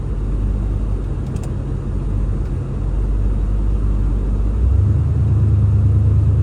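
A 1990 Ford Bronco rolls down the road with a steady, loud low-pitched engine and road rumble inside the cabin, deepening into a heavier drone near the end.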